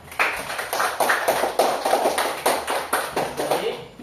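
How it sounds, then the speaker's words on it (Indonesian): A class of students claps for a group after its presentation, a quick, even beat of unison claps from close by in a small room that keeps the same pace throughout. "tepuk tangan untuk kelompok 1."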